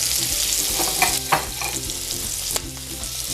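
Corn sizzles in butter on an electric grill pan, a loud, steady frying hiss broken by a few scraping stirs and clinks. No one speaks.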